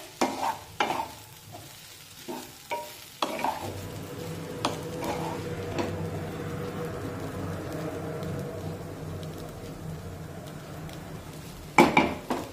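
Oats upma is stirred in a pan: a run of sharp spoon-on-metal knocks at first, then a soft continuous sizzle with light scraping, and a couple more clinks at the end.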